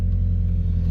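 A turbocharged 200 WHP Mazda Miata rumbles loudly up close, its exhaust droning in a deep, steady low growl for a brief moment without any voices.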